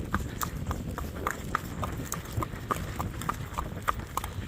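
Horse hooves clip-clop at a steady walking pace, a run of sharp, fairly close strikes over a low background rumble, with faint voices now and then.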